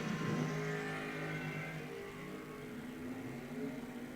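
Drag racing cars, including a Camaro, roar at a bracket race strip as engines build and hold a steady loud drone, with no voices.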